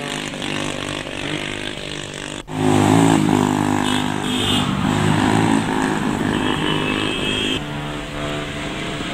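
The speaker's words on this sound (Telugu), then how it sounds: "ఈ జాతీయ రహదారిపై వేగంగా బైక్లు నడుపుతూ హడలెత్తిస్తున్నారు" Racing motorbikes speed along the NH44 highway near Anantapur, their engines a loud, continuous close roar that swells sharply after a couple of seconds and stays strong, with no talking.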